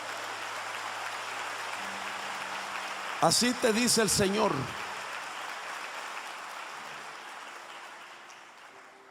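A church congregation claps continuously as steady, rain-like applause in a worship service, while a preacher's voice speaks briefly over it partway through.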